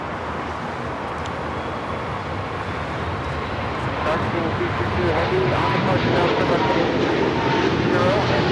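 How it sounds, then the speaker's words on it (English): A Cathay Pacific Boeing 777-300ER taking off from runway 25 right at LAX bound for Hong Kong makes a dense, rushing engine roar that thickens and grows louder partway through, with low voices nearby. "Cathay Pacific Flight 885 taking off to Hong Kong on the 777-300ER"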